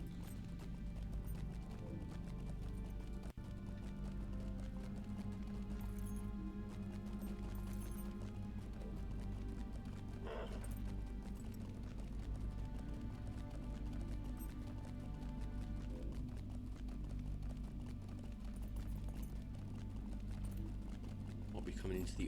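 Horse hooves clip-clop in a steady, even rhythm while riding in the Lord of the Rings Online game, moderately loud over a continuous low hum that runs the whole time.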